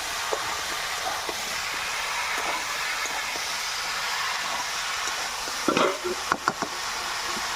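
Snakehead fish curry with mixed vegetables sizzles in a pan with a steady, close hiss, and a short burst of scraping stirs and clinks comes near the end. No voices are heard.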